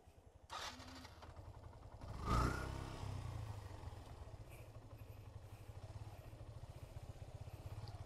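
A Yamaha FZS V2 motorcycle starts up for a steep downhill off-road ride from Mirinja Valley: an engine catch, one sharp rev, then a steady, close, low thrumming idle that runs alone to the end.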